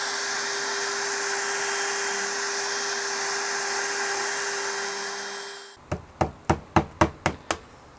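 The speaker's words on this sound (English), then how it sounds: "Let me turn the vacuum on." A shop vacuum roars steadily for several seconds while a neck pocket is routed in a guitar body, then cuts out, followed by a series of sharp, evenly spaced knocks.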